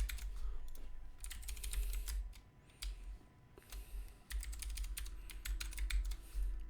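Rapid typing of a password on a computer keyboard, a dense patter of crisp key clicks in bursts with brief pauses, close and clear over a low background hum.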